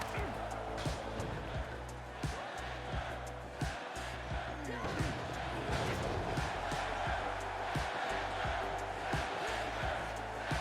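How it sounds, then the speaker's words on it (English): Arena crowd chanting in the wrestling video game AEW Fight Forever, a dense rhythmic roar of many voices with thuds of in-ring action, under someone talking. "Hear the crowd chanting for Chris Statlander"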